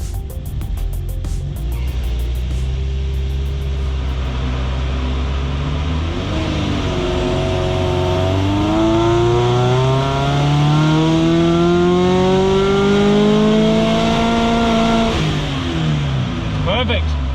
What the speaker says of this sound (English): we'll give it a run and we'll see how